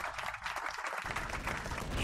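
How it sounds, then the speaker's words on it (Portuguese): Applause from a live-stream crowd or soundtrack during Broforce gameplay: steady dense clapping that fills the whole two seconds at moderate level, with no talk over it. "Roger, uma salva de palmas aí para o nosso amigo Roger."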